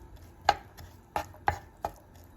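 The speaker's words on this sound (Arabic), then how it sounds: "البصله حاولوا تقطعوها بحال هكا تكون صغيره" An onion being chopped into small pieces with a knife on a board, four crisp, evenly spaced cuts, close and clear against a quiet kitchen background.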